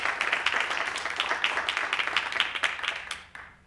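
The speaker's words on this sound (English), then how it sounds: "Let's give Scarlett a round of applause" An audience in a high school theater at a board of education meeting claps for an award winner, a dense flutter of many hands that fades out over a few seconds.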